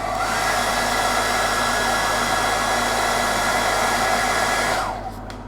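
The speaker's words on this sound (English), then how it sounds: "I'm going to hit it with a hairdryer." A hairdryer blows steadily at close range onto a freshly sketched painted miniature, a loud continuous rushing whir that holds for about five seconds before winding down at the end.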